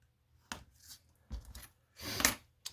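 Cutting through material along a marked line on a canopy, four separate rasping snips at irregular intervals with quiet gaps between, close and moderately loud.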